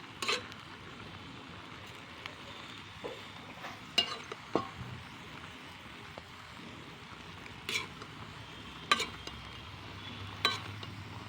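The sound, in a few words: stirring drumstick leaves frying in a pan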